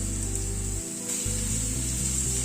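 Chicken hits a hot pan with ground spices, producing a loud, close, continuous sizzling hiss that stays steady through the moment, with no voices.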